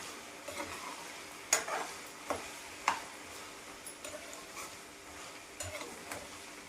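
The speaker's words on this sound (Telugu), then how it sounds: "ఒక 2 నిమిషాలు వేయించుకుందాం." Ginger garlic paste frying in peanut oil for a chicken pickle, with a soft steady sizzle and occasional sharp clicks of a spoon stirring against the pan, no voices.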